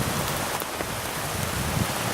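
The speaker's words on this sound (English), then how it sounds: "We've got high winds, and we had rain. Now we have sleet and snow" Sleet, snow and driving high wind beat against a deer hunting blind, making a dense, steady hiss and patter close by with no talk.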